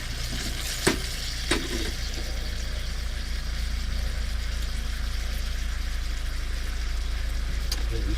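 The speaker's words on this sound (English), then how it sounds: "So just let that sear there for a little second." Vegetables sear in a wok, a steady loud sizzle over a low constant rumble, with a couple of sharp clinks early on and no speech.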